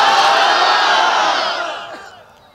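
A large crowd at a Bangladeshi Islamic waz mahfil answers the takbir in one loud unified roar, sustained and then fading out over a couple of seconds.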